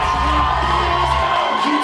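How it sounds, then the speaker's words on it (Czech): An audience at a Třebíč school graduation ribbon ceremony cheering and whooping for a graduating student, a dense, loud burst of crowd noise that fills the short moment. "Váš potlesk zní pro dalšího maturanta"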